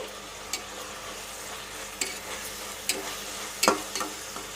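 Shrimp and jackfruit curry with turmeric fries in a pan, a soft continuous sizzle punctuated by a few sharp spatula clinks and scrapes as it is stirred, no voices.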